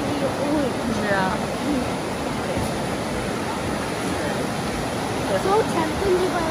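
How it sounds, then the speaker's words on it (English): Rushing creek water in New River Gorge near the Lower Glade Creek trailhead, a constant broadband roar filling the scene, with light bird chirps and brief distant voices over it. "the sound of the water. It's really all-encompassing and wonderful."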